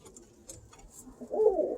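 Pigeons cooing softly nearby, a low murmuring coo that swells louder near the end, faint and close in a quiet loft.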